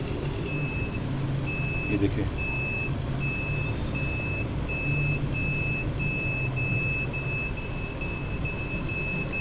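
A musical toy steering wheel gives off a steady, evenly spaced train of high electronic beeps like a reversing alarm, with a few other short tones, while someone talks over it and a low hum continues underneath.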